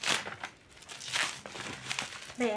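Crinkly plastic packaging of a hair trimmer is handled and opened at close range, with several short crackling bursts and pauses and a brief voice at the very end.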